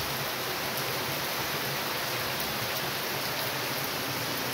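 Heavy morning rain pours steadily outdoors near garden beds, a dense, even hiss of falling water with no voices.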